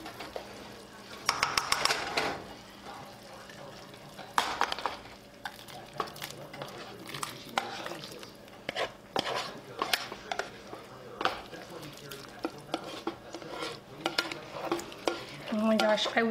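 A meat, tomato and onion mixture is stirred into a pot of bean soup, with wet scraping and clattering spoon strokes against the pot over a light sizzle, in uneven bursts.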